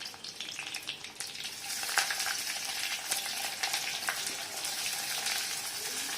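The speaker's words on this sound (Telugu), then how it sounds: "రెండు ఉల్లిపాయలు, 2 పచ్చిమిరపకాయలు వేసుకుని బాగా బ్రౌన్ కలర్ వచ్చేదాకా వేయించుకోవాలి." Chopped onions and green chillies fry in an oiled pan with curry leaves, giving a dense, continuous hiss and crackle close by that grows a little louder partway through, with no talking.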